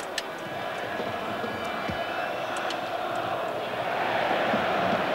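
Roughly 76,000 spectators at the Olympiastadion in Berlin for the 1998 DFB-Pokal final between FC Bayern München and MSV Duisburg: a broad, steady crowd roar with distant chanting that swells slightly toward the end.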